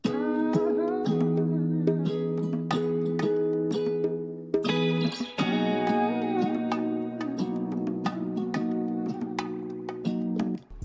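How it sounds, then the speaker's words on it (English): A looping music track plays with sustained chords, punctuated by sharp guitar stabs that land at intervals over the groove. "so I've added these two guitar hits"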